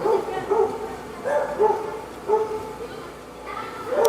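Dogs bark repeatedly at a moderate distance in a village in the Darién Gap, in short irregular bursts over steady background noise.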